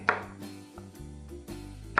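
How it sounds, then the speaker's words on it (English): Knife trimming the ends off okra on a cutting board, a few sharp separate chops spaced out over a couple of seconds, close and clear with no talking. "So I'm gonna get started on the okra here. Cut off the edges here."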